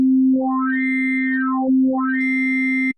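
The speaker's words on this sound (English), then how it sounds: "Wavetable gives us those typical PPG style tones." A Waldorf Iridium synthesizer plays a PPG-style wavetable tone: a steady, loud sustained note with harmonics sweeping up and down twice as the wavetable moves, cutting off abruptly at the end.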